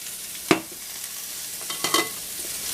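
Onion and coleslaw mix hit a hot, smoky wok for lo mein, giving a soft steady sizzle with a sharp clatter of ingredients landing and a few stirring scrapes; no talking.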